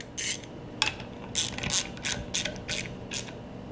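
A bolt being worked on a refrigerator compressor during repair of a General Electric CG ball-top refrigerator, heard as a series of short, close ratcheting clicks in uneven bursts with no talking.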